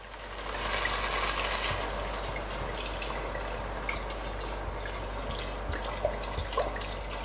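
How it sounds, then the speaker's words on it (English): Red wine poured from a full bottle over beef for a French beef stew, a steady liquid trickle and splash running continuously and fairly close. "I'm pouring the wine in the beef."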